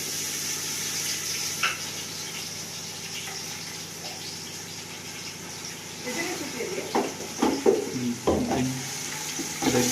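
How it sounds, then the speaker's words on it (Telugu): Ginger garlic paste hitting browned onions in a pan for biryani, a quiet hiss that breaks into louder, uneven sizzling and stirring scrapes toward the end, heard close up. "ఇప్పుడు అల్లం వెల్లిపాయ పేస్ట్ వేసుకుందాం."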